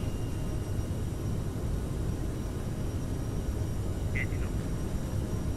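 CRJ7 jet engines roaring steadily at takeoff thrust during a flex-temperature takeoff roll in Microsoft Flight Simulator, a continuous broadband rumble with a faint brief chirp near the end.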